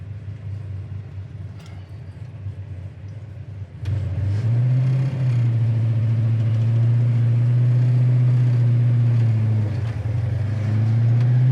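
A 1969 Plymouth Roadrunner with a 383 V8 starts up loud and close, then rumbles steadily through its exhaust, its deep idle rising and falling with light revs.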